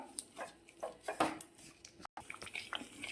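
Close scraping and clinking as a spoon stirs melting jaggery and dates with ghee in a pan for sesame barfi, irregular taps and wet scrapes, fairly quiet with no talk.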